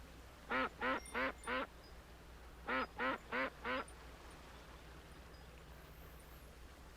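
Loud duck quacks from the Second Life virtual world come in two tight series of four evenly spaced calls, separated by a short pause over a steady low background hum.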